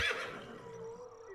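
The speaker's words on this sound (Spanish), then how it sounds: "La yegua lanzó un agudo relincho" A mare gives a sharp, high whinny that starts loud and trails off into a fading, wavering tail, heard up close and alone as an audiobook sound effect.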